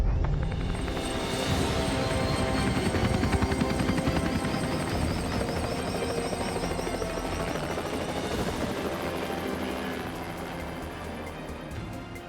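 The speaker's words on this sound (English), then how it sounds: "I've chosen to use the helicopter this time." A helicopter in the video game Hitman 3 roars steadily throughout as it flies, with loud, dense rotor and engine noise that eases off slightly near the end.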